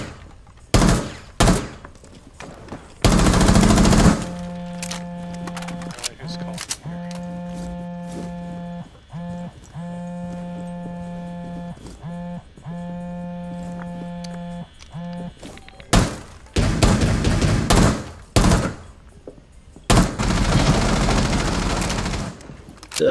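A muzzle-braked Desert Eagle pistol fires in Rainbow Six Siege during a Skyscraper team deathmatch, with loud sharp bursts of shots at the start and end and a steady buzzing tone in between.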